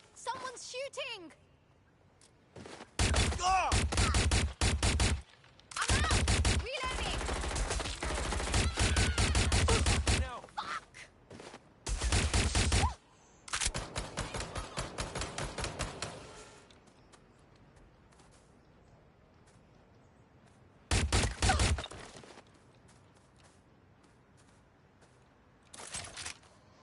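Gunfire in a PS4 video game comes as several loud bursts of rapid automatic shots lasting a second or more each, separated by quiet gaps, with a final short burst near the end.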